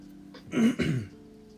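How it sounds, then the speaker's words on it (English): A single close throat clearing, a rough guttural rasp in two quick pushes, over quiet background hum. "I do apologize for having to clear my throat"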